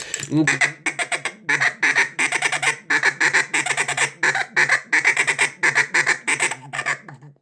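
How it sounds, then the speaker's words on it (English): A loud, aggressive duck feed call blown in rapid, choppy bursts of raspy quacks, repeated nonstop with short breaks, close to the microphone. "learn to blow your feed really loud and really aggressive"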